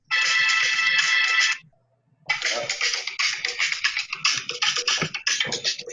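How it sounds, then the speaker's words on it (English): Bright, tinny music plays from a small device at a breakdance and hip hop session, loud for about a second and a half, then a brief silence before fuller, busier music resumes with no talk. "Can you hear the music?"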